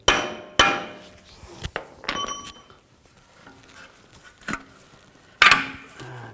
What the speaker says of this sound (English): Just gonna give the axle a tap.